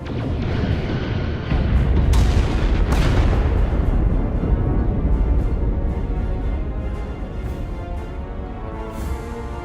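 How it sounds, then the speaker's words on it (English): Starship weapons fire in the Star Trek Resurgence video game as heavy booming blasts and bursts that rumble loudly throughout under dense game sound. "Targeting their life support systems. Commencing fire."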